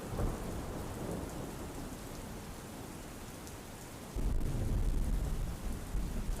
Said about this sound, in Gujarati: કપરાડામાં તમે જોઈ શકો છો 4 ઇંચ જેટલો વરસાદ ખાબક્યો છે